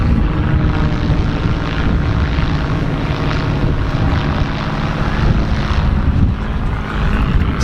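Propeller plane droning steadily overhead above South Beach, Miami, towing an advertising banner; a loud, continuous engine hum that holds close and even for the whole stretch, with no voices.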